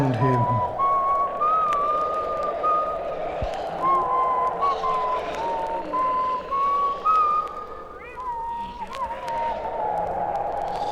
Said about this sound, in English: began to whistle to himself, trying to take his mind off of the weird things going on all around him